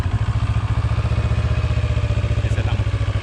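A CF Moto NK 400 motorcycle engine runs right after starting, a loud close idle with a fast, even pulsing throb and slight mechanical clatter.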